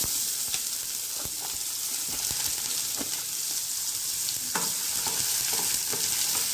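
Chopped onions frying in hot oil in a kadai make a loud, continuous sizzle close up, with regular scraping taps of a spatula stirring them around the pan.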